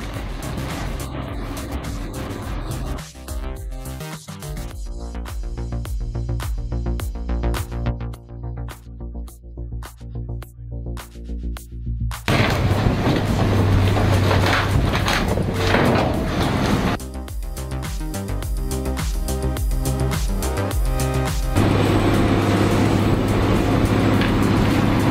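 An industrial shredder tears apart a ship's wheelhouse during marine salvage. A loud, constant grinding roar carries rapid cracking bursts, then deepens into a heavier, denser rumble partway through.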